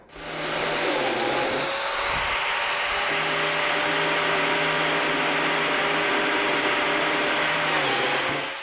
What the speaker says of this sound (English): Now set your fence so that you can cut up as high as you can on the miter and work with number 0 biscuits